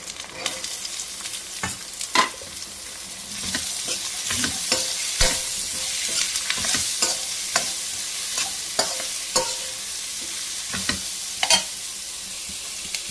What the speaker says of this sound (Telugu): నూనెలో ఒక రెండు రెండు నిమిషాలు మగ్గనియ్యాలి దొండకాయ ముక్కలు